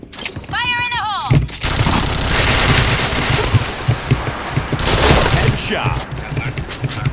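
Rapid bursts of gunfire in the Point Blank shooter game, loud and continuous with dense crackling shots, under a player's voice at the start and between volleys.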